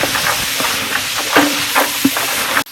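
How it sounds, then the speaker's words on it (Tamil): Large onions sauté in a big pot for a traditional mutton dum biryani cooked outdoors in a village. A steady loud sizzle and hiss runs throughout, with occasional stirring scrapes. "வெங்காயம் நல்லா பொண்ணு வரும் வரைக்கும் வதக்கி எடுக்கும்."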